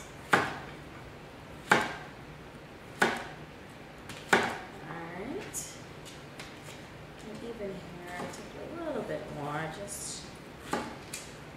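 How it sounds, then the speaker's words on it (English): Squash being chopped into small bite-sized chunks on a cutting board, with several sharp, evenly spaced knife strikes followed by quieter cutting and kitchen clatter beneath a speaking voice. "So we'll start by just chopping the squash up very carefully here."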